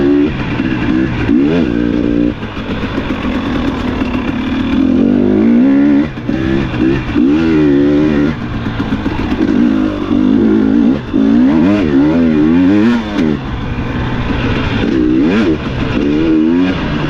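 Dirt bike engine droning steadily and loudly on an ORV trail in Michigan, revving up and down in pitch as it rides, close and continuous with no talk.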